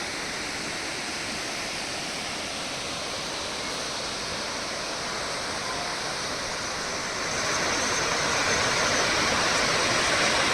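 Birthi waterfall on the Munsiyari to Bageshwar mountain road roars with a steady, loud rush of falling water that swells slightly louder toward the end, with no voices.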